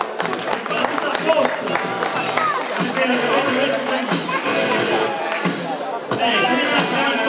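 Crowd at a cosplay contest during a comics convention clapping and chattering, a loud, continuous mass of applause mixed with cheers and voices.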